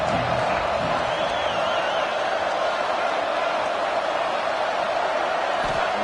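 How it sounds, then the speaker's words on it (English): A Texas Tech Red Raider football crowd cheers on third down during a college game against LSU, a loud, steady roar that holds unbroken across the whole stretch. "The Red Raider crowd rising to the occasion to help its defense on 3rd down."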